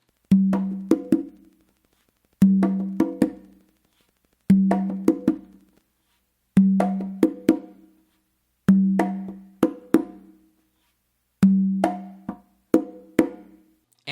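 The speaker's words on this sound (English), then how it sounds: "So to hear it coming out of the tumba is going to sound like this." A Matanzas guaguanco pattern rings out of the tumba conga, a deep open tone leading each of six evenly spaced groups of quicker hand strokes, played alone and up close.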